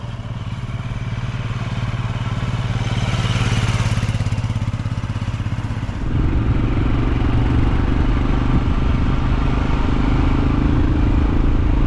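A Royal Enfield Scram 411 motorcycle engine runs steadily throughout while riding, a loud mid-pitched rumble that shifts to a deeper, rougher tone partway through, with no voices.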